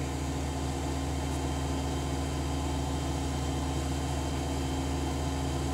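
The auger motor of a Wrapade machine hums steadily and evenly, a continuous mechanical whir with a tonal drone and no pauses.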